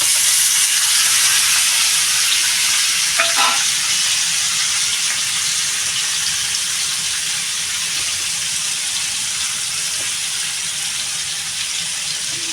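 Marinated mourala fish fries in hot oil in a home kitchen, making a continuous loud hiss and sizzle throughout, with one brief clatter near the start and no voices.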